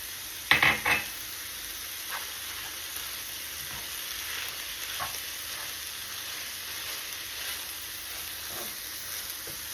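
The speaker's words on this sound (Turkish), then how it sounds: "Ve bir yemek kaşığı salçamız vardı. Onu da ilave edelim." Tomato paste fries in a pan with a soft, steady sizzle; a sharp metal clink opens, followed by occasional light scrapes of a spoon stirring.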